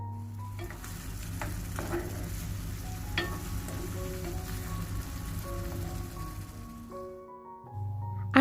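Ground masala paste for a prawn pepper curry sizzles and fries steadily in a pan, with a few soft clinks and stirring scrapes, close by and fairly quiet, while rain falls outside.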